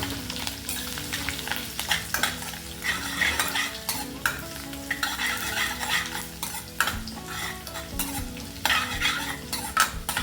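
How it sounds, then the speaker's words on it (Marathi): Steady sizzling of curry leaves and finely chopped garlic frying in hot oil, with frequent scraping and clinking of a spoon stirring the pan, close up and continuous. "इथे मी आता थोडा कढीपत्ता टाकून घेते आणि बारीक चिरलेलं लसूण हे हलवून घेते"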